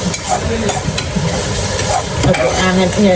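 Onions sauté in a pan for a Jaffna-style squid curry, stirred in a busy home kitchen. A continuous close sizzle is broken by frequent scraping stirs, with a faint voice in the background.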